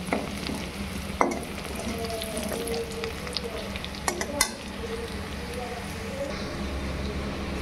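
Onions frying slowly on low heat for a pork fry, giving a steady low sizzle marked by a few sharp spatula clinks and scrapes.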